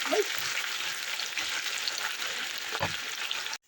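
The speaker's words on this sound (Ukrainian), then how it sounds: "коли шкварчить аромат з цього цибулі з салом" Onions crackle and sizzle in hot pork fat, a steady close-up hiss with a few dull knocks of a spoon against the pan before it cuts off.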